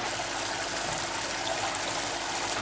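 Water runs steadily from the shower rose of a portable Joolca gas hot water system at a camper, a continuous soft hiss of spray with an even, unbroken flow and no voices.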